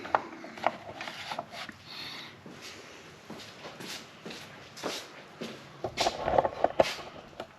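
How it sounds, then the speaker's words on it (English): A plastic cover plate snapped back onto a Minn Kota Powerdrive trolling motor, heard as a string of close, light clicks and shuffling handling noises, with louder snaps near the end. "So we will take our cover plate and reinstall this. Get our snaps lined back up here."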